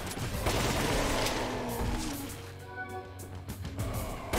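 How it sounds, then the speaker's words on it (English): Dual submachine guns firing in Resident Evil: The Umbrella Chronicles, a rapid, dense burst of gunfire up close, followed by sparser shots and game effects. "I like having two submachine guns"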